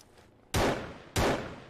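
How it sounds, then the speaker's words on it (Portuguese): Two sharp, loud gunshots in the video game The Perfect Heist, spaced about half a second apart, each a sudden blast with a booming tail that decays quickly. "já tá tendo tiro aqui"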